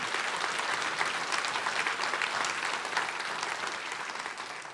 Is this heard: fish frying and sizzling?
no